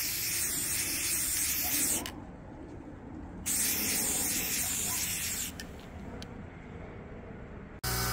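Spray paint hisses out in light, fine bursts onto small indicator lenses, two long steady blasts with a short pause between and a fainter stretch after, loud and close with no talk.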